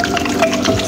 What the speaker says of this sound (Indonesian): dimulai dari membersihkan tangan dengan sabun dan air mengalir